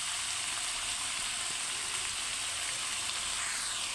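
Broccoli frying in a pan, a continuous soft hiss and crackle of sizzling oil held at an even, moderate level for the whole stretch, with no voices.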